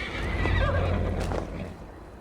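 A horse whinnies loudly near the start while galloping in the video game Assassin's Creed Valhalla, with heavy low rumbling and hoof-like thuds underneath, trailing off toward the end.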